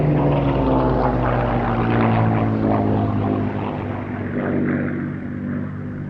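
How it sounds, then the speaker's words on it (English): A Hispano HA-1112 Buchon, a Spanish-built Messerschmitt Bf 109 with a Rolls-Royce Merlin engine, flies past at an airshow with a loud, steady propeller drone that swells and then slowly fades, heard alone. "if you think that sounds more like a Rolls-Royce Merlin than the 109's original Junkers Umo or later Daimler-Benz DB601 and 605 engines, you'd be right"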